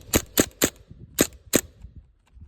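A green gas airsoft rifle built on a 10/22 fires five sharp, snappy shots in quick succession, close and loud, then falls quiet with faint clicks. No one speaks.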